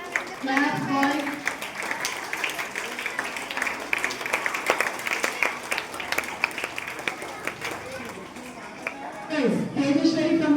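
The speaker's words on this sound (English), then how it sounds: "Claps, boys." Students at a school prize distribution clap in a long, dense round of applause that carries on for several seconds, with talking heard over it at the start and end.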